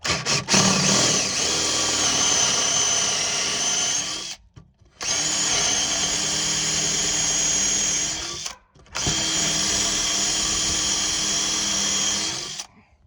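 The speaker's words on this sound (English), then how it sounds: "And I've drilled these holes all the way across." Power drill boring 5/8 inch holes through wood for a homemade dog kennel, three long loud steady whining runs separated by short pauses, close up with no talking.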